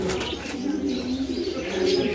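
Pigeons coo softly in low, murmuring, continuous calls, with faint chirps mixed into the close, steady cooing.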